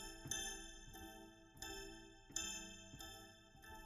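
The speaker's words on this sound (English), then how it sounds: "this typewriter is more bell-like" A typewriter sound processed with reverb rings out as a series of faint bell-like tones, about six struck notes at irregular intervals, each decaying slowly into a shimmering tail.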